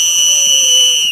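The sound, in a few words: whistle blown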